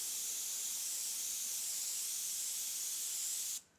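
Airbrush spraying white paint for shading on a skull design, a continuous bright, airy hiss held steady at close range for several seconds, then cutting off abruptly.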